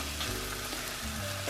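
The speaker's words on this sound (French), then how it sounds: "je les remets dans la casserole et je vais verser la sauce par-dessus" Cooked pasta returned to a hot pan sizzles softly as creamy sauce is poured over and stirred, a faint, close crackle and hiss with no talking.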